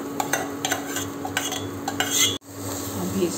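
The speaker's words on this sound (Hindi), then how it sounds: "अभी इसको अच्छे से मिक्स कर लेंगे मसाले के साथ" Mashed boiled potatoes and peanuts being stirred into masala for masala dosa filling, a close run of spoon scrapes and clinks against the pan over a faint sizzle, with a brief pause near the end.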